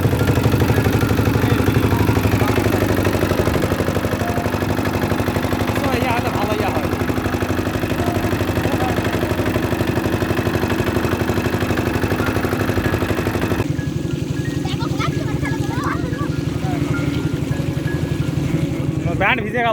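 A motor boat engine drones steadily as the boat crosses the Hasaigari beel wetland in Naogaon, a constant close rumble that eases in its last few seconds, with faint voices now and then.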